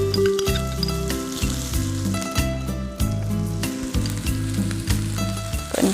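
Onion, chili, carrot and cumin fry together in a hot pan, giving a steady, close hiss of sizzling oil that runs throughout with no voices over it.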